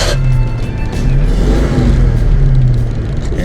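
A 1966 Ford Mustang pulls away with a loud, close, deep engine rumble that swells as it revs and moves off.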